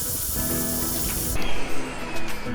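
A carpet cleaner machine works on a pet stain on carpet with a loud, steady hissing spray and suction that shifts partway through, and bumpy thuds and scrubbing come through beneath it.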